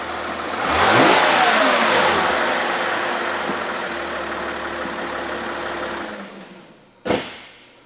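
A Porsche 911 GT3 engine revs hard as the car accelerates, loud and close at first and then settling into a steady high drone that cuts out near the end before a short sharp burst.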